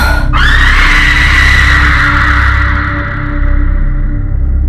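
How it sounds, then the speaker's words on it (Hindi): A woman lets out one loud, piercing scream in a horror story sound effect, starting abruptly and holding at full intensity for several seconds without a break, harsh and close. "वो जोर से चिल्लाती"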